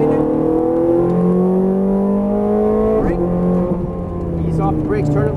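A Ferrari F430 Scuderia engine revs hard on a track, a loud, close rising howl that shifts pitch midway and keeps climbing.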